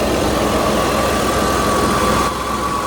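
A Ford Duratec 2.5 liter V6 24-valve dual overhead cam engine idles steadily in a cheap old car, a close, even mechanical hum with a low throb and no voices.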